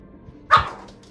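One close, loud dog bark rises briefly over a low background hum and then fades away.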